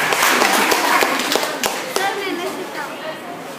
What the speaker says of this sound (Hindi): इस गेम से इन्होंने प्रदर्शन के लिए जोरदार ताली